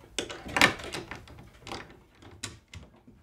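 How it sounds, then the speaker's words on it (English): A Howard Miller grandfather clock's locked door is opened with a small skeleton key: a series of close, sharp clicks, rattles and wooden knocks, irregular and moderately loud, with no talking. "Now this clock has a little kind of a skeleton key to open it up."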